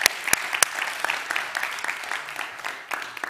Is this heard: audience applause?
yes